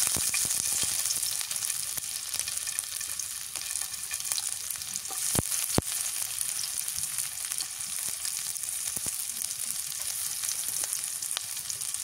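Onions frying in hot oil for a Bengali mashed fish dish, a steady close hiss and sizzle with a few sharp pops and clinks, with no talk.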